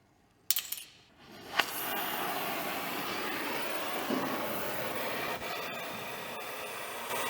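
A torch cutting a rusted bolt beneath the fuel tank of a 1964 Jeep CJ5 makes a steady, close roaring hiss after a sharp metallic clank at the start, with a few more clicks along the way and no talking.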